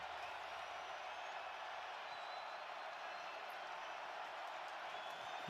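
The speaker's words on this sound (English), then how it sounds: "Jacksonville, if they get a stop, you hear the crowd already." A steady, faint roar from a stadium crowd at a Chargers at Jaguars NFL wild card playoff game in Jacksonville, holding as an even, distant wash with no distinct cheers.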